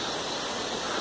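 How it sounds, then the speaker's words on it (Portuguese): The Cachoeirão waterfall in the Vale do Pati, Chapada Diamantina, gives a steady, loud, broadband rush of falling water, unbroken and without voices. "E tem uma cachoeira lá atrás, ó."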